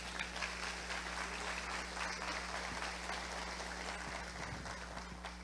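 A church congregation applauding during a service, a faint, continuous wash of clapping from a distant crowd over a steady electrical hum.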